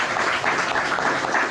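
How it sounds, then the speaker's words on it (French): Audience applause in a hall during a French stand-up show, a steady dense wash of many hands clapping at moderate level with no talk over it. "vous pouvez applaudir"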